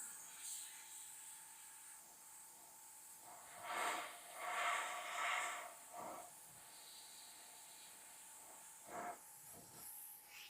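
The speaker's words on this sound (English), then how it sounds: "You just mist over the whole thing." An airbrush sprays a fine mist of paint in several short bursts of soft, airy hiss, with quiet pauses between passes and a faint steady background hiss throughout.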